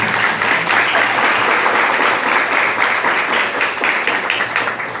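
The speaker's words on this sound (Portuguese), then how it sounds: "Aplaude o irmão que está do lado" A church congregation at a Catholic preaching event applauds steadily, with dense, continuous clapping filling the room at an even, fairly loud level throughout.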